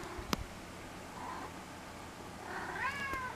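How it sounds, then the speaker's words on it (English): A cat meows faintly outdoors at dusk, a few short plaintive calls, one clearer rising-falling meow near the end over a steady hiss of background noise. "I couldn't find where the meowing was coming from."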